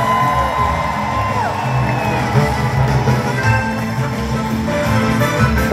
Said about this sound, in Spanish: Un fuerte aplauso, por favor, para todos mis músicos de base.